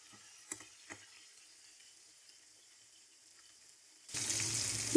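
A spicy Lahori-style masala fish frying in a pan over low-to-medium heat: near-silence with a couple of faint clicks, then a sudden loud, steady sizzle bursts in for the final second.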